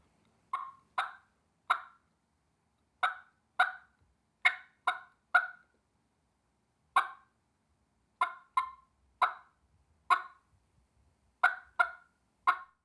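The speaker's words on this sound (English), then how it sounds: "And there's your basic cluck." Turkey clucks made with a mouth-operated turkey call, a series of sharp, crisp single and paired pops spaced irregularly, clear and close against silence.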